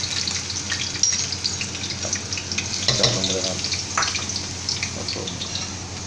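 Ten large garlic cloves hit about two tablespoons of hot oil in a pan, giving a steady, fairly loud crackling sizzle with a brief surge of spattering as they land, continuing throughout.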